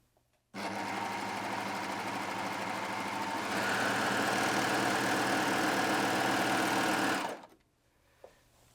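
A Baby Lock Aspire coverlock machine sews a triple cover stitch on scuba fabric, starting abruptly into a loud, steady, close mechanical whirr that speeds up slightly midway and runs about seven seconds before stopping.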